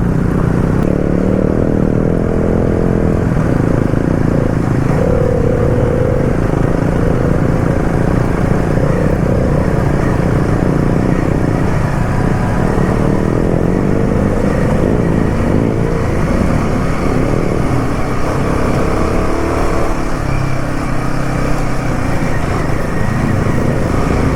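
A Himalayan 450 motorcycle climbs a very steep gravel incline in first gear at high revs, its engine droning loud and continuous throughout with wind and rough ground noise mixed in.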